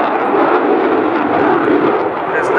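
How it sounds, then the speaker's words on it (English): Boeing F/A-18 Super Hornet combat jet performing a flying display at an airshow, a loud steady broadband jet engine roar sustained throughout, with no speech. "There's no other combat jet that seems to hang in the sky on its engine power like the Super Hornet"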